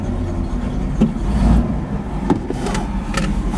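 A car engine with a newly installed carburetor stud and thick gasket, after sitting long enough to vapor lock and with the choke still partly on, runs as a steady close rumble with a few sharp bumps.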